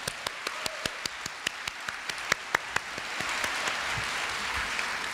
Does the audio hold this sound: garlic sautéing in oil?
no